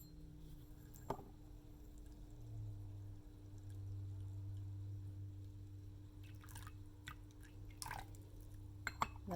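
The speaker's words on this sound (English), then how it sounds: "I'm going to try to time these and pour them out appropriately" Brewed sencha tea poured steadily into a cup, a soft continuous liquid stream with a few drips near the end, over a low steady hum.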